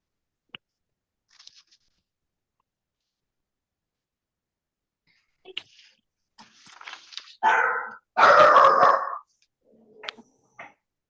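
Dogs bark in a short loud burst after some faint scattered noises, a few close barks and yips, then quiet.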